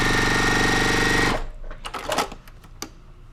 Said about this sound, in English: I'm using a 1/4 inch foot, and I'm just going to stitch really fast